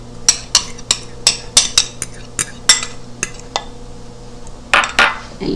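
A spoon clanks and scrapes against a bowl while tomatoes, onions and cornstarch are mixed together, a series of sharp, close clinks in quick rhythm, pausing before a final flurry of knocks.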